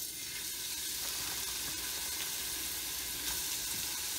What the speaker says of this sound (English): we start off with just browning our turkey meat